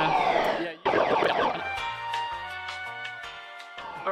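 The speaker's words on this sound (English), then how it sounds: "we're at PCIM and the fire alarm has just got off" A fire alarm goes off in a trade-show hall at PCIM, sounding as loud electronic tones that hold and step between pitches without pause for about four seconds, with a sharp break near the start.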